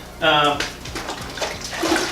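Water pours and splashes heavily from a soaked JAX WAX microfiber wash mitt, a loud close gush over a rhythmic dripping patter, while a person talks.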